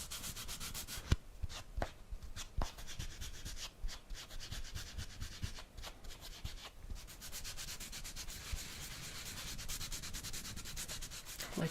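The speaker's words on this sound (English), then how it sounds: "just a little bit of buffing and polishing" Steady dry rubbing and scraping, like sandpaper worked across a surface during a close ASMR-style buffing and polishing session, with a few sharper strokes early on, then a continuous soft abrasive hiss, up close and with no talking.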